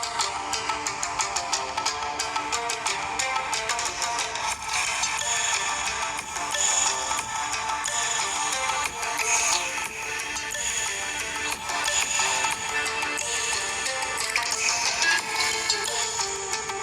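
A Moto Edge 70 phone plays a ringtone loudly through its speakers, a dense, continuous melody running unbroken and close.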